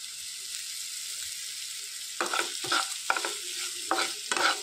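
Onions frying in a pan with turmeric and salt, a steady high sizzle that grows louder with intermittent stirring scrapes and clatter in the second half.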